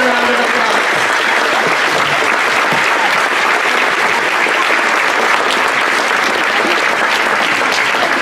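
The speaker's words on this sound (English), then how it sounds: "Let's give them a round of applause." A Veterans Day program audience applauds the veterans in attendance, a loud, sustained wall of clapping from a large crowd that stays even and unbroken for several seconds.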